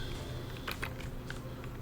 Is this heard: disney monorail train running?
no